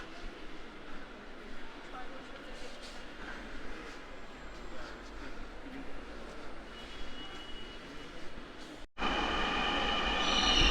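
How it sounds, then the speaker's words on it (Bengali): Last night train of the Dhaka metro rail pulling into a station: a rising mechanical rumble and faint wheel squeal under someone speaking, then a sudden louder wash of noise near the end. "আমাদের ট্রেন ইতিমধ্যে চলে এসেছে, আমরা এই ট্রেনটিতেই চড়ে যাওয়ার চেষ্টা করব।"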